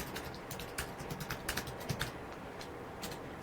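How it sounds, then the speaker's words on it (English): Password being typed on a computer keyboard: a quick, uneven run of light key clicks, close and fairly quiet, with no talking. "we're going to type out our account password"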